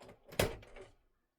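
A beer keg slides into a home draft machine with one solid thud and a brief scrape, then a short clatter that fades into quiet.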